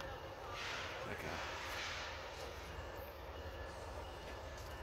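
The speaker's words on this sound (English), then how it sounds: "Metrolink on 3 coming in" Metrolink commuter train pulling into Fullerton station on track 3, a steady rumbling roar of wheels and cars with faint rail squeal, heard from the platform under a constant wash of noise.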